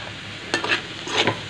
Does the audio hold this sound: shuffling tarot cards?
no